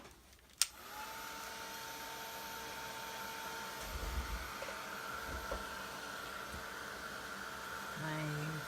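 A hair dryer blows a steady, close, even whir over a watercolor poinsettia painting, starting after a short click and running without a break, with no talk over it.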